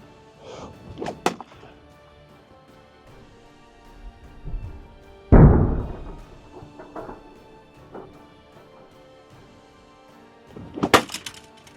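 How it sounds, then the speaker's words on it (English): A single hard thwack of a rock striking a wooden shield, sharp and loud, with a few lighter knocks and handling taps before and after, no talking. "So I'm gonna hit it a few times with the rock, kind of establish a base"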